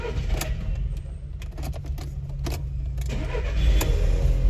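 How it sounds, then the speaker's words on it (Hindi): A Volkswagen Polo TSI petrol car with a fuel pump fault cranks and catches, the engine starter whirring with sharp clicks before the idle settles and grows slightly louder. "तो ये हाफ सेल्फ गाड़ी स्टार्ट हो गई है।"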